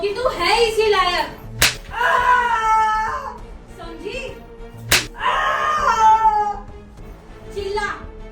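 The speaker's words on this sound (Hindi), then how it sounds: "अभी तो तुझे सिर्फ बेल्ट से मारा है" A belt lashes someone in two sharp, loud cracks a few seconds apart, amid drawn-out wailing cries and a person talking.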